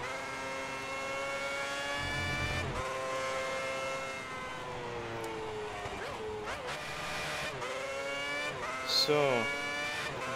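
A Formula 1 race car driving at the Malaysia circuit in the video game F1 2010, a high whining engine rising and falling through gear shifts with brief tire squeals, under someone talking quietly.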